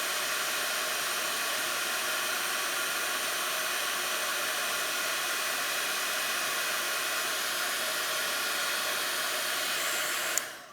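A heat gun blows a steady, even hiss of hot air, held close while embossing gold ink on a card, running continuously without a break before cutting off abruptly at the end.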